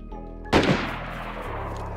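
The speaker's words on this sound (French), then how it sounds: "je crois qu'il y a un mec qui te tire dessus" A single sharp gunshot cracks in DayZ over a low steady engine-like drone, followed by a decaying rumbling echo that fades over about a second.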